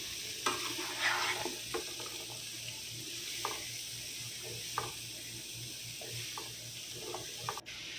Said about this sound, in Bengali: দেন মশলার সাথে পেঁপেগুলো মিক্স করা হচ্ছে।